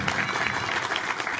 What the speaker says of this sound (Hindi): अब जनाब भरपूर तालियों में तशरीफ लाते हैं डायरेक्टर दायित्व ग्रुप ऑफ स्कूल जनाब तैमू